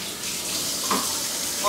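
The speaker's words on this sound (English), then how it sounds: "Wash your hands." Tap water runs steadily in a kitchen sink as hands are washed after cracking eggs for zucchini bread, a continuous hissing splash with a brief louder burst of spatter.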